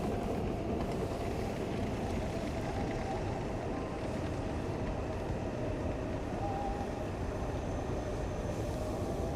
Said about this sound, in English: Here comes another that looks like another E2 Shinkansen up there.